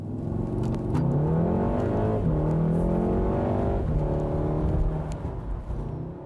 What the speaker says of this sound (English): The Golf R has plenty of sound in the interior, considering that its engine has only 4 cylinders.